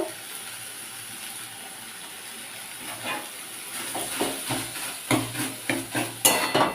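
Colocasia greens and grated coconut are stirred and scraped in a wok, with steady sizzling underneath and rhythmic scraping strokes that grow louder and more frequent toward the end.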